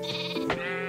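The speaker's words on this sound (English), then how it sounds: "So many sheep." Sheep bleating in Minecraft, one wavering bleat with another call starting at the end, close and clear, no talk.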